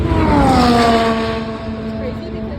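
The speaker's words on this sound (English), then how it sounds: "we saw the most clear view of Ferraris driving past" Formula 1 Ferrari race cars sweep past at the Austin Grand Prix, a loud, high engine whine with a falling pitch as they pass, sustained under the crowd's roar and chatter.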